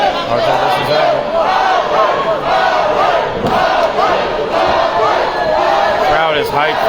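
Loud, dense crowd noise at a live Muay Thai main event, a steady roar of cheering and shouting voices that stays high throughout with no pauses.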